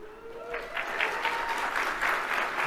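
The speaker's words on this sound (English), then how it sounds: "that was the first applause break we heard" Audience applause rises briefly over a fading voice, a short burst of clapping at moderate distance that stays fairly soft.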